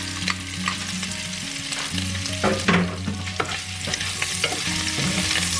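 Diced onion and garlic stirred into a pan of sizzling kielbasa, steady loud frying hiss under repeated scraping strokes of a utensil, close up, no talking.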